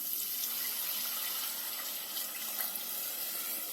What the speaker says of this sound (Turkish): Evet şimdi bir su bardağı kadar soğuk suyumu ilave edeceğim.